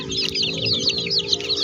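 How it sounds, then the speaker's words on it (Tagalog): Several native Bisaya chickens cluck and chirp together nearby on a farm, a busy overlapping chorus of short calls with no talking. "mga Bisaya na manok."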